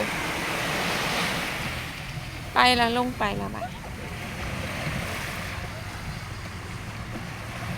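Sea surf washes steadily onto a beach at night, with wind noise over the microphone and a short stretch of nearby talk partway through.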